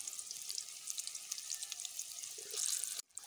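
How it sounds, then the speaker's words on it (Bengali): Yardlong bean snacks fry in hot oil with a bright, crackling sizzle that holds steady and swells near the end before a sudden brief drop. "বাকিগুলো আমি সেমভাবে ভেজে নেব।"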